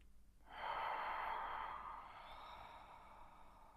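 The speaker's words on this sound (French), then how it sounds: "Une dernière inspire-expire de nettoyage bien profond." A single deep breath heard close and soft: a quick intake, then a long, slow cleansing exhale that gradually fades, with no talking.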